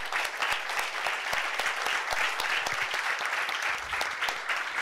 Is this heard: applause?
yes